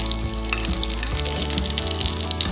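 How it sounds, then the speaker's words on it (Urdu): Garlic-ginger paste sizzles steadily in hot oil in a pan, a dense continuous fry hiss with small clinks and stirring knocks, close and fairly loud, with no talking. "سب سے پہلے ہم نے پین میں آئل لے لیا ہے لہسن ادرک پیسٹ"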